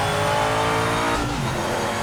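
Race car engine in the Project Motor Racing video game, hung between gears: a loud, continuous engine drone whose pitch sags slightly, with no voices.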